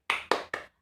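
Three sharp claps in quick succession, close and distinct, each ringing briefly before the next, forming part of a rhythmic classroom spirit-clapping chant during a remote school lesson.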